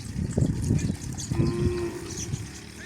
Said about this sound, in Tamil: இந்த மாட்டை பாருங்க, இப்படி பெரிய மாடு, நல்ல பெரிய மாடு, நாம்பன் மாடு